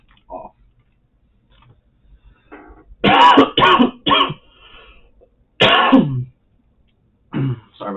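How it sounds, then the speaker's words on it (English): Several dry coughs and throat clearings in a quiet indoor room, close and abrupt, arriving in short bursts separated by silence. "Sorry about the coughing"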